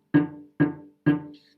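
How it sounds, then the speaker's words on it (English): Three short bowed cello notes, a fingered note with the string not pressed down to the fingerboard, each one sounding alone with a quick swell and fading tail, evenly spaced. "That's because you're not bringing the string into contact with the fingerboard."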